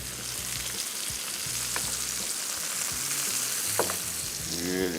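Chicken pieces frying in a pan, a loud continuous sizzle and crackle close up, with a few faint clicks and a brief tonal sound near the end, no talk.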